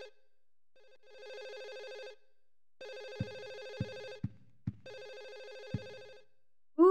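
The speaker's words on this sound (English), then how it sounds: "There's a phone ringing." Telephone ringing in the horror game Silent Hill 4: The Room: three trilling electronic rings with pauses between them, clear and close, joined by a few dull low thuds and no talking.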